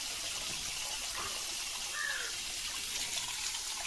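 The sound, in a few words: running water during a child's bath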